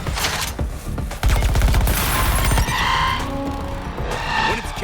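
Sustained rapid gunfire in Suicide Squad: Kill the Justice League as squad members shoot at an incubator, dense bursts and booms filling the scene alongside skidding game effects.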